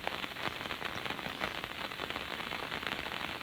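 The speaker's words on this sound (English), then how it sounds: "There's a small silence, broken only by the sound of falling rain." Steady rain falling on a surface, a dense even patter of drops with occasional sharper taps, moderately close and continuous with no voices.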